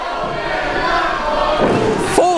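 A wrestling crowd at a tag team title match cheers and roars in a steady loud swell, with a thud near the end.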